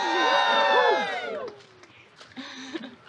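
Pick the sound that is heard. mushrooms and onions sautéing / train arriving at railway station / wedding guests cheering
wedding guests cheering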